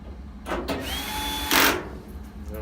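A power drill whirs in a few short bursts as it drives screws through a plastic panel on a Samsung dryer, with one longer, louder run near the end of the burst sequence.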